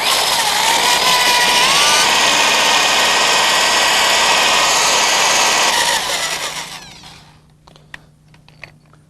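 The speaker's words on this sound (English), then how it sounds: "Now that we've sanded all the rust and the loose paint" Rust and loose paint are sanded off a car body with 80 grit sandpaper, giving a loud, steady, close abrasive rasp for about six seconds that then fades out, leaving a few faint knocks.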